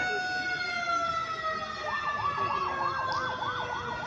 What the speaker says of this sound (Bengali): এখন আমরা দেখতে পাচ্ছি ফায়ার সার্ভিসের গাড়িও ঘটনাস্থলে পৌঁছে গেছে